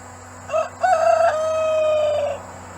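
A rooster near its hens lets out a single loud, close crow lasting about two seconds, its rising opening followed by a long, steady held note, with no talking.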